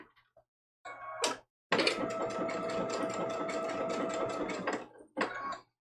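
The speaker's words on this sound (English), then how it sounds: "I'm going to do a little test stitch to see how this blanket stitch looks real quick." A home sewing machine runs a short test blanket stitch, whirring steadily and fairly quietly for about three seconds between brief starts and a final burst, close by and without talk.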